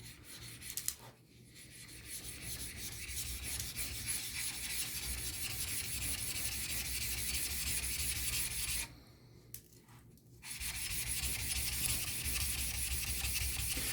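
A sharpening hone being flattened on wet-or-dry paper with silicon carbide powder gives a steady, close abrasive rasp, rubbed back and forth continuously, with two brief pauses.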